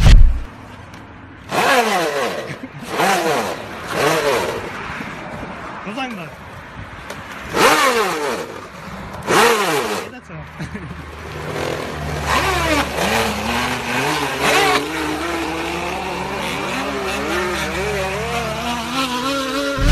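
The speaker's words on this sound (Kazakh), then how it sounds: "Велосипедтин дөңгөлөгүнө кадимки пластик бутылкасын тыгып, мотоцикл кылып алып." A bicycle with an ordinary plastic bottle stuck in its wheel gives off a motorcycle-like buzzing rattle that rises and falls like revving, loud and close, with rapid warbling pitch sweeps over a continuous drone.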